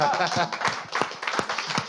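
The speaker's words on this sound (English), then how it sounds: "Please applause again." Audience claps after a start-up pitch at an emerging-ecosystem pitch event on Rwanda, a scattered, uneven patter of hands, moderately loud, with a voice talking over the clapping.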